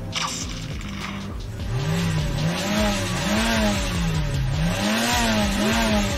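Car engine revving in a Minecraft video game: a loud, close engine that winds up and down in repeated wavering surges, steady and continuous with no speech over it.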